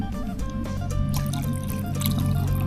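Liquid is poured off from a cooking pan holding catfish for a spicy stir-fry, producing a close, steady trickle with dripping and splashing, with faint tonal sounds behind it.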